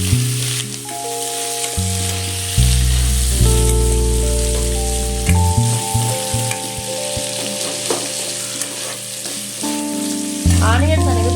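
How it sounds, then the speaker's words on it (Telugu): Onions frying in a pan for a South Indian dish, a steady close sizzle and crackle running throughout, with loud sustained background music layered over it. "ఆనియన్స్ అన్నీ వేసుకొని బాగా ఫ్రై చేసుకోవాలి."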